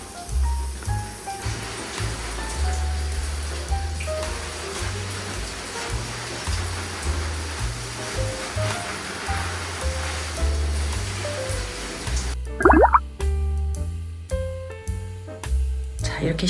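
Water showered over a potted rubber plant indoors, its leaves rinsed as it is watered; a steady, close hiss of spray runs throughout, with a shift partway through as the flow changes and music plays underneath.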